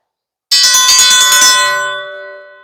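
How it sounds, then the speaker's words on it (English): A dinner bell is struck once and rings out loudly on its own, its bright metallic tone slowly fading over about two seconds. "it's time that we go ring the dinner bell and let everybody know it's time to eat"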